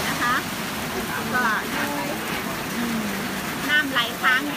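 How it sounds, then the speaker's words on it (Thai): Rain falling outdoors around a rural home in a Thai village, a steady close hiss of drops running through the whole clip, with someone talking over it and bird chirps at moments. "ตอนนี้ฝนกำลังตกอยู่บ้านวังตะเท่าค่ะ"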